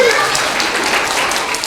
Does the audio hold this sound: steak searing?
no